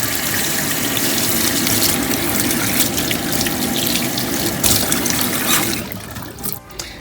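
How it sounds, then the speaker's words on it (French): Tap water runs in a loud, steady stream as a snapper is rinsed under the faucet, a dense hiss of splashing that fades near the end. "Et je rince."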